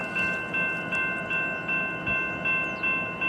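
BNSF diesel locomotives idling at a crew change on the westbound side, a steady close engine drone with a sustained tonal hum and faint regular pulsing, no voices.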